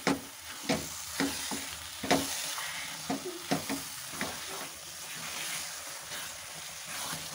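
Grated carrots with khoya roast in a pan for gajar halwa while a spoon stirs and scrapes, making rhythmic scraping knocks over a soft, continuous frying hiss.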